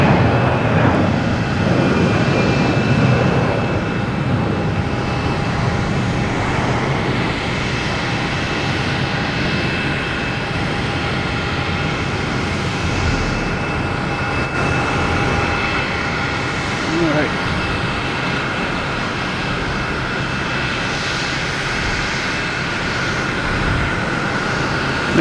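A Delta Airbus A321 airliner at Boston Logan Airport produces a loud, steady jet roar that fills the whole stretch, rumbling and whooshing without a break.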